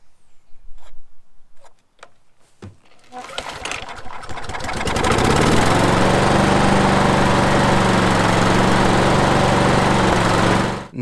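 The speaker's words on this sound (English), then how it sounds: "let's warm up the engine for approximately 1 minute at idle" A Briggs & Stratton lawnmower engine on a Victa mower starts with a few pulls and then runs at a steady, loud idle to warm up, close by, with some birdsong faintly audible before it starts.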